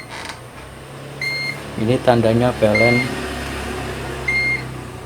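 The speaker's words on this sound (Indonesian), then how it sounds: "PLN padam ini ditandai dengan berbunyinya alarm." A UPS alarm sounds during a mains power outage at home, giving short, high repeated beeps in a few separate bursts while someone speaks close by over a steady hum.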